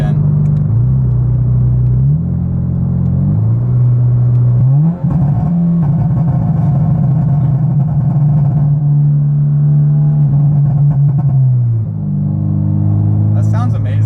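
A modified Subaru BRZ engine drones steadily, its rumble rising and falling through a few rev changes with a brief dip midway, loud and close throughout.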